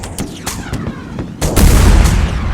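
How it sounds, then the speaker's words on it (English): Machine guns fire in the video game Arma 3 in sharp, rapid cracks and bursts, followed by a heavier, rumbling barrage of fire, loud and close with no talk over it. "these guys are really firing in hard already"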